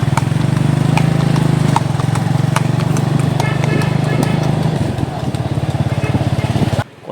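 Hooves clip-clop on a road in Kodaikanal against a loud, steady motorcycle engine drone. The hoofbeats come as quick regular ticks under the engine, and the sound cuts off abruptly near the end.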